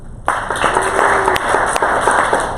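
Audience clapping for a university drama troupe performer, a sudden burst of dense applause that starts sharply and holds steady and loud for a couple of seconds.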